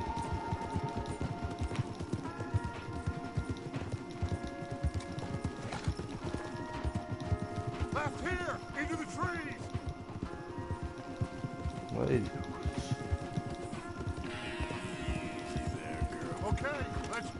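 Horses gallop in the Red Dead Redemption 2 video game, their hooves drumming in a steady rapid clip-clop throughout, with occasional whinnies and snorts and voices talking over the riding.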